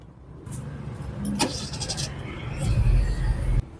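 A car that had been shaking and dropping revs with the air conditioning on is started with a short crank, then settles into a steady low idle that builds slightly in level, heard close up without talk.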